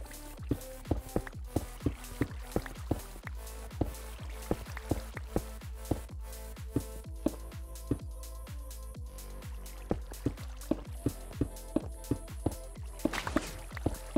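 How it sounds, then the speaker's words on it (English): Flowing water in a block-building video game, heard as a steady run of small dripping, trickling plinks repeating every fraction of a second at a soft, even level. "let's go ahead and get rid of the flowing water"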